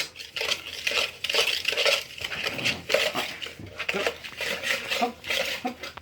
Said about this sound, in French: Donc voilà, mélangez bien, comme ça.